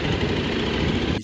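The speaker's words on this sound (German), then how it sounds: "Man hört es ja quasi, dass der Motor richtig so auf die Art anfängt zu stottern" KTM motorcycle engine stuttering on a small climb after a ferry ramp in Ireland, a rough, uneven low rumble heard close and alone for about a second.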